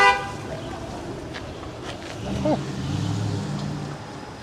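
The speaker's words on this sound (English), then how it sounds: "That TTC vehicle was right to honk." Toronto TTC transit vehicle sounding its horn on a city street, one loud honk at the start, then traffic rumble and a passing vehicle swell.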